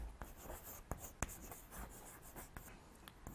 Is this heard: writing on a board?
yes